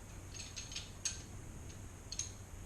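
A ratchet snugging a cylinder head bolt on a turbo LS engine makes faint, sparse clicks, a few soft ticks followed by two sharper ones, close by in a quiet garage.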